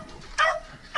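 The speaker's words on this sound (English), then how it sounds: "This is my dog pen. That's my beagles." Beagles in an outdoor dog pen let out two short, loud barks, the second just starting as the clip ends, with quiet pauses before and between them.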